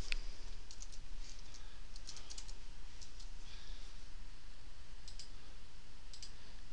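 Mouse clicks and keyboard typing on a computer set up as a Windows Server 2012 machine, soft and close, with scattered light taps and clicks over a faint steady hum.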